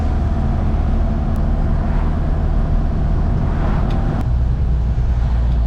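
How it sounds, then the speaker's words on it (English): A 1975 Mark 1 Ford Escort rally car drives with a steady, loud engine drone and road rumble filling the whole stretch, heard from inside the car without pause. "So now driving this 1975 Mark 1 Ford Escort"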